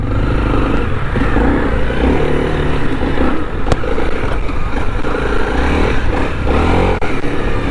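A 2021 Honda CRF300L motorcycle pulls away with a steady, loud engine drone and rising revs as it rides off. Wind and road noise sit under the engine throughout.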